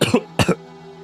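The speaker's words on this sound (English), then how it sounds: "Is a little coffee cough." Two sharp coughs in quick succession from a single person, close and fairly loud, followed by quiet.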